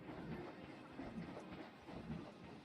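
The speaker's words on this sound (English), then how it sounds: "And I love the train going through here" A roller coaster train in Planet Coaster rolls along the track with a faint rumble and soft rhythmic clacking that swells and fades in gentle surges.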